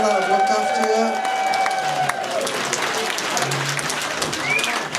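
A concert crowd at El Mocambo in Toronto applauds the sound and lights crew. Loud, steady clapping and cheering carry on throughout, mixed with crowd voices and some ringing musical tones.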